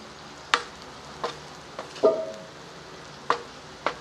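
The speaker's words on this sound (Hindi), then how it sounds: "इसे अच्छे तरीके से भून लेना है।" Goat brain masala being fried and stirred on a tava, a soft low sizzle punctuated by several sharp taps and scrapes of the spoon against the pan.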